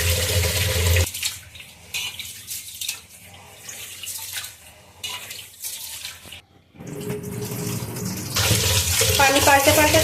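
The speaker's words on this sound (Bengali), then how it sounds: "চালটা এখন আমি পরিষ্কার করে ধুয়ে নেব।" Polao rice being washed in a bowl under a running kitchen tap, a splashing rush of water that drops quieter in the middle and then swells again with swirling, clinking washing sounds close by.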